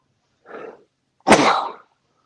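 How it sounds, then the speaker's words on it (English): Two sneezes close together, a softer one followed by a loud, explosive burst, with no talking around them. "Sorry for the sneezing on there"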